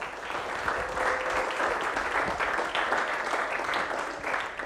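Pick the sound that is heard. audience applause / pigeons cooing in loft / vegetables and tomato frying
audience applause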